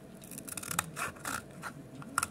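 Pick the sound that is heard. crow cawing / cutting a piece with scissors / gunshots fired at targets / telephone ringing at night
cutting a piece with scissors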